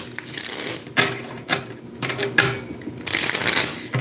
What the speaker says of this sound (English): Let me get some good shuffles here